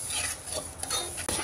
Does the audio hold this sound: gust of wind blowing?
no